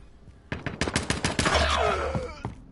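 Rapid bursts of automatic gunfire in the shooter game Modern Warfare, a string of close, loud cracks firing in quick rhythm over ongoing game noise and a low rumble.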